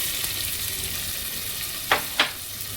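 Chopped onion frying in hot oil tempering for a taro leaf curry, a steady soft sizzle with two brief sharp stirring scrapes near the end.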